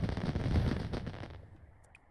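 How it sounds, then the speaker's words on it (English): Fireworks bursting at a snow festival in The Sims 4, a loud dense run of booming, crackling explosions that fades after a second or so into quieter background with a faint high ping. "More fireworks! Woohoo!"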